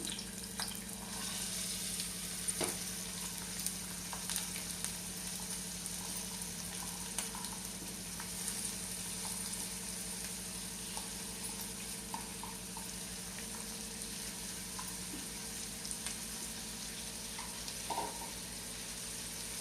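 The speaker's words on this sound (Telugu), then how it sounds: "ఇప్పుడు దాంట్లోకి ఆయిల్ టేకిన తర్వాత ఆనియన్స్ వేసుకుంటున్నాను" Onions frying in oil in a pan for an Andhra-style raw mango and sweet potato curry, giving a faint, steady sizzle with a low hum and a few small pops.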